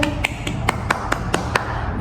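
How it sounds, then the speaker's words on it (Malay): In a classroom, students clap together for Raja in a regular rhythm, about eight crisp, evenly spaced claps over two seconds, heard close and fairly loud over a low background hum. "beri tepukan untuk Raja"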